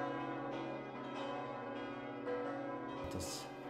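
A church bell rings in repeated, evenly spaced strikes. Each tone hangs in a sustained, resonant hum, fairly faint and heard alone, with a brighter clang near the end.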